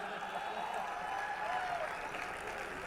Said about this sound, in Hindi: तुम ताली देर से बजाते हो यार